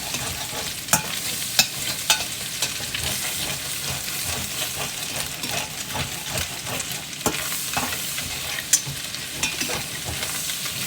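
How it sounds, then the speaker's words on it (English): A spatula scrapes the bottom of a pan over steady sizzling butter while making Salisbury steak sauce, with scattered sharp scraping clicks and stirring noises close up and no talking. "we're going to take our little spatula here and we're going to scrape off all that goodness that's on the bottom of the pan"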